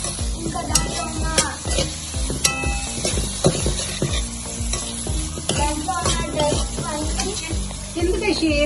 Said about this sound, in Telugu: మనం బ్రొకాలీ అండ్ ఆనియన్స్, క్యాప్సికమ్ అన్ని బాగా వేగిపోయాయి.